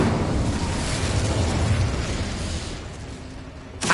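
A fiery Incendio fire spell cast in the video game Hogwarts Legacy: a loud, sustained roaring burst that fades slightly, then ends with a sharp final flare.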